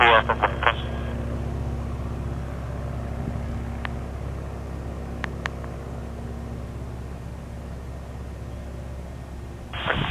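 A Cirrus SR22 airplane starts its takeoff roll at Princeton Airport, its engine a steady, droning hum heard from inside the cockpit as radio talk comes through.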